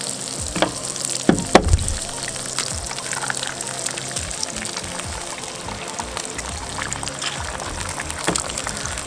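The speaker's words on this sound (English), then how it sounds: "the sausage is cooking up really nice, quick. So now we're gonna add our eggs." Sausage and eggs fry on a single camp burner with a continuous close sizzle and crackle, a few sharper pops and scrapes near the start.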